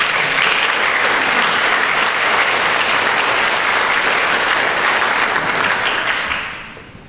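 An audience at an architecture history seminar in Chicago applauds to welcome keynote speaker Charles Waldheim, with loud, dense, continuous clapping that holds steady for several seconds before fading out.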